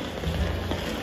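A short burst of steady rain falls on a school's first day, a dense even patter with no voices over it.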